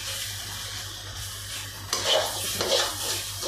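A spoon held reversed stirs Rayalaseema-style egg fry in a hot pan, giving a steady close sizzle with scraping strokes and a couple of louder stirring bursts toward the end, no talking.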